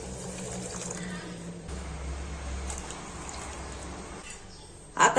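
Water poured from a tambya into a pot of rice for masala khichdi, a steady close splashing and trickling that runs for several seconds, then stops with a brief clatter at the end.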